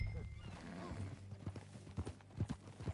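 In Red Dead Redemption 2, a horse's hooves clip-clop at a walking pace, close and fairly quiet, under low background music and game ambience, with a brief snort near the start.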